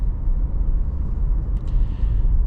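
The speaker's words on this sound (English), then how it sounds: "You just hear the slight buzzing of the engine" A 2026 VW Jetta Sport cruising on the road, its engine a faint low buzz under a steady rumble of road and cabin noise, quiet and continuous.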